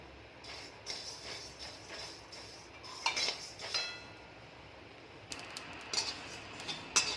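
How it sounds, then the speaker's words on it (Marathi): Coriander seeds are dry-roasted in a pan, producing faint, intermittent scraping, rattling and light clinks as they are stirred. No one talks. "आता मी धने भाजून घेत आहे"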